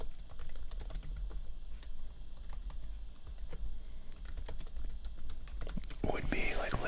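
Quiet, close clicking of a computer keyboard during a card break, keys tapping in irregular bursts over a low steady hum, with a louder rustle near the end.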